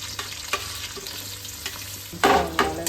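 Onions sizzle and fry in coconut oil in a pan while being stirred, a steady close hiss with scraping stir strokes and a louder burst of sizzling near the end, no voices.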